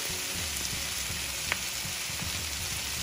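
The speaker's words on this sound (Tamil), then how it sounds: "வெங்காயம் இந்த பதத்தில் வதங்கினா போதும், ரொம்ப வதக்க வேண்டாம்." Shallots sauté in oil for a tomato chutney, a constant close sizzle with light crackling and a soft stir or two, with no talk heard.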